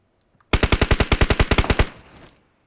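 A rapid burst of about fourteen automatic gunshots rings out loud and close in a video game, then a short fading tail.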